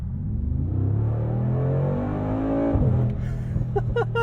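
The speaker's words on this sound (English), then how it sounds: "the sound, the noise of this V8" A Mercedes-AMG G63 V8 roars under acceleration, a loud sustained rumbling drone with rising harmonics, then a brief drop and sharp pulsing exhaust bursts toward the end, heard from inside the SUV.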